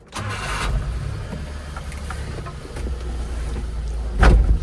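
A Daihatsu Atrai engine cranks briefly and catches, settling into a low idle, followed by a sharp louder rev near the end.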